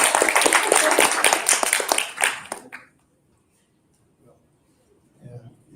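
An audience applauds panelists at a talk on landing AI jobs and internships, a dense burst of clapping for about two and a half seconds that quickly dies away into near silence.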